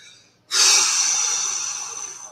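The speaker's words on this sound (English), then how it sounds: "What we're going to do first is blow out." A single forceful exhale during a guided deep-breathing exercise bursts in after a moment of quiet, a loud, close, breathy rush of air that holds steady and slowly fades over about two seconds.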